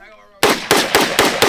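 Five sharp, loud, close gunshots from an ARP pistol fired in quick, even succession, following a brief moment of voice.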